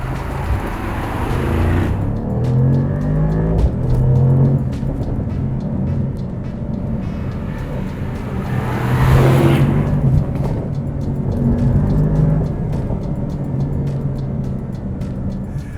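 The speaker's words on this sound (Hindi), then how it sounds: "चलिए दोस्तों, तो ड्राइव की शुरुआत हम करते हैं इस SL 55 की।" A Mercedes-AMG SL 55 engine pulls steadily while driving, a loud continuous roar that swells around the middle with rumbling road and wind noise throughout, with no talking.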